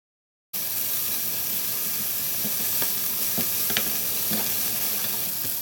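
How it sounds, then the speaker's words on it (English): Onions, garlic, curry leaves and ginger frying in oil for a long bean fry: a dense, continuous sizzle and hiss that starts abruptly after a short silence, with occasional faint pops and stirring clicks. "Fry until the onions turn translucent, and finally the ginger."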